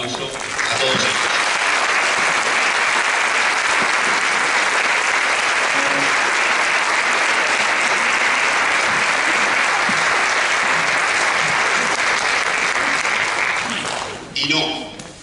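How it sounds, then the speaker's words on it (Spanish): Sustained, loud applause from an audience at an inauguration event in Calatayud honoring members of the Torre Albarrana association, steady for about fourteen seconds before tapering off. "les dediquemos un fuerte, merecido y de corazón aplauso a todos ellos"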